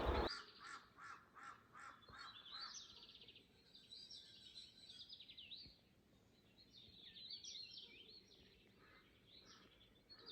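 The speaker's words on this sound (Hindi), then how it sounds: "आवाज़ सुनाई देगी तो यहाँ पर बसे हुए पंछियों की चहचहाहट की।" Birds chirping and calling over and over, soft and a little distant, in a quiet outdoor setting with no traffic.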